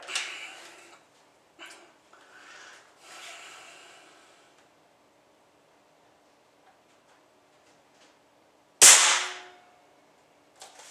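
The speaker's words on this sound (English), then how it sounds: "I'm completely ecstatic with this air rifle. So, all right, let's go round 2. Let's start the sequence." A Benjamin Bulldog air rifle fires a single sharp, loud shot that cracks out after several seconds of quiet, faint rustling and handling noises.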